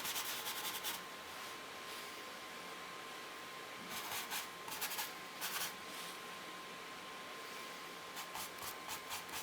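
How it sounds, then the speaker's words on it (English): A pencil or charcoal scrubs shadows into a drawing of hands, producing soft dry rubbing strokes in short rhythmic bursts close by, over a faint constant background hum. "I'm going to scrub in some of the other sort of shadows"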